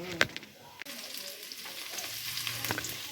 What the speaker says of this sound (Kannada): ಈಗ ಒಗ್ಗರಣೆ ಮಾಡುತ್ತಿದ್ದೀವಿ